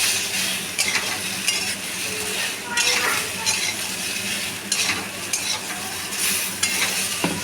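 A spatula stirs mixed vegetable curry with ginger paste and green chillies in a hot pan, repeated scraping strokes and light clinks over a steady sizzle, close and fairly loud.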